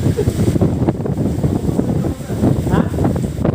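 Strong monsoon wind buffeting a microphone while out on a motorbike, a continuous loud roaring rush with gusty swells, close and harsh, with muffled talk partly mixed in.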